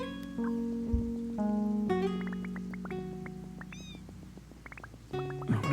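Cat meowing in the video game Stardew Valley, several tonal meows in succession over light rain and soft game music, moderately loud with no talking.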